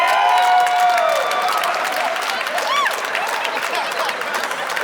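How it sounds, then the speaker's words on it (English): A stand-up comedy audience gives a big round of applause with scattered cheers and whoops. The dense clapping is loudest at first and then thins slightly. "I'm glad a lot of you are cheering"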